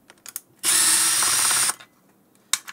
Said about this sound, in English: I'm gonna remove these 4, which is total of 10 screws that I need to remove